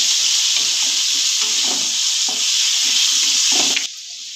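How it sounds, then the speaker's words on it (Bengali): Potatoes fry in oil with a little salt and turmeric, giving a loud, steady, close sizzle that holds throughout and then drops suddenly to a softer hiss near the end. "আলুটাকে ভেজে নিচ্ছি"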